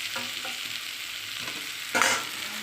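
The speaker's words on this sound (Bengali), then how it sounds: "ভাজা আলু আর মশলা আর পেঁয়াজ একসাথে ভালো করে একটু কষিয়ে নেব আবার।" Fried potatoes, onion and spices are stir-fried together in a pan: a steady close sizzle with repeated scraping stirs and a louder burst of frying near the end, no talking.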